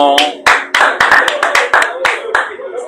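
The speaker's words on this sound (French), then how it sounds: "Applaudissons." A church audience claps in sharp, close, uneven bursts, with a voice speaking over the hand claps throughout.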